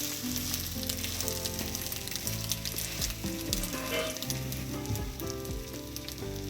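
Egg and potato breakfast frying in a pan, a steady close sizzle with scraping as it is turned over, background music-like tonal bands running throughout.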